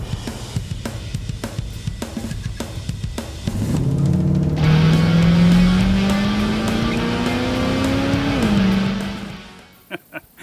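A custom hot rod built from car and tractor parts drives past, then its engine rises and revs steadily as it turns around on the road. It fades out at the end with a few faint clunks.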